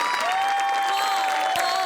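A studio audience claps and cheers at a Marathi comedy show, a steady dense wash of applause held at even loudness for about two seconds with no talk over it.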